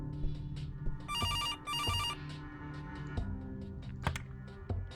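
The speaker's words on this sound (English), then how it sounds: "I should answer the phone." A telephone rings in the point-and-click video game Kathy Rain: two short electronic ring bursts sound close and clear among sparse clicks and keyboard-like taps.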